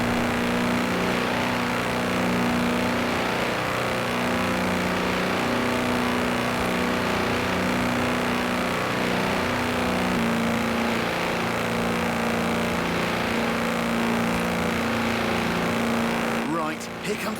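A speeding tractor runs flat out toward a roadside speed camera, its steady droning engine loud and close throughout with a constant low hum, and a brief clatter near the end.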